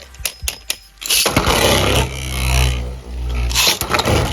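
A Beyblade Xiphoid Xcalius top launched in right spin from a sword launcher, a few sharp clicks and a loud ripping launch, then a close humming whir of the spinning top with sudden rises and falls.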